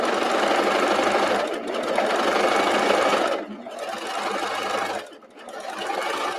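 A sewing machine set for two threads on a narrow stitch sews a knit top sleeve in the round, running loud and close as a fast, continuous mechanical whir that stops briefly twice before starting again.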